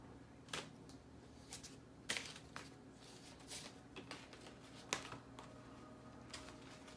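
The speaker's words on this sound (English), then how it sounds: "Let's get a shuffle." A moon oracle card deck is shuffled by hand, making soft, irregular riffling clicks and taps that stay quiet and close.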